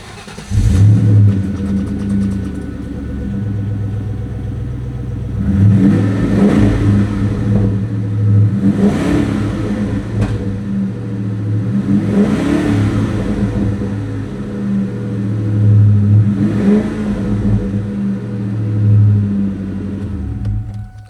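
A 2003 Ford Cobra with Flowmaster exhaust starts up and settles into a deep, rumbling idle, then is revved four times in slow, rising-and-falling swells, loud and close, with no talking.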